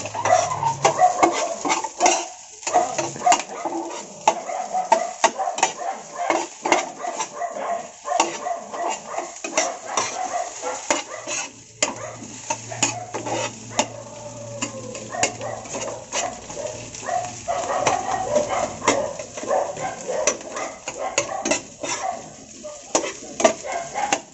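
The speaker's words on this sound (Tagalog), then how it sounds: "So ngayon, halo na natin." Sisig sardines and instant pancit canton are stirred in a pan, giving a continuous, close scraping and clattering with a faint sizzle underneath and a few dog barks in the background.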